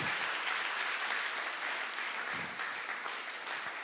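An audience applauds at a hackathon finale, a dense, loud and continuous round of clapping from a large crowd that carries through to the end.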